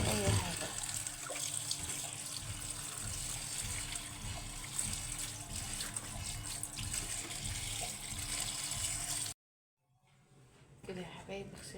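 Tap water running into a sink as molokhia leaves are washed by hand, a steady close splashing stream with rustling handling that cuts off abruptly near the end, followed by quieter drips and movement.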